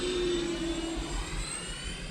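A Freewing F-14 Tomcat 80mm electric ducted-fan RC jet flying with afterburner lights, giving a steady, loud, whining fan roar that stays constant, with a high tone that slowly shifts as it passes.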